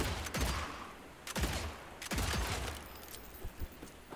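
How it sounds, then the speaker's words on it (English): Fanned revolver shots in the video game Evil West, three or four loud sharp bursts of rapid gunfire about a second apart, each trailing into a rumbling echo, followed by quieter clattering. "Hold E for fanning and tap E for single shots."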